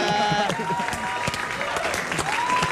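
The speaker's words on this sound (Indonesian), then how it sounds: "tepuk tangan untuk Rin" An audience applauds for Rin, a continuous wash of clapping heard alongside tonal music and some voices in the background.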